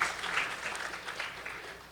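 Audience applause at a Raksha Bandhan sabha honoring a Swami, a steady wash of many hands clapping at moderate loudness for about two seconds, with faint voices underneath.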